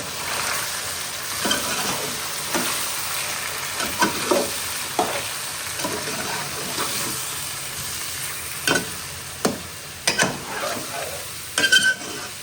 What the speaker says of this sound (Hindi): मैंने घी डाला है, इसमें ऐड करेंगे गोश्त